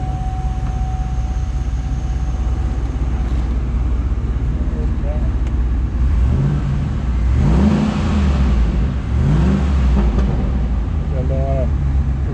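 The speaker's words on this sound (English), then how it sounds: "Rev it up just a little bit so you can hear it." A 2004 Chevrolet SSR convertible with a 5.3 liter V8 idles with a deep steady rumble, then revs in a few rising and falling swells, close by, with a voice briefly in the background.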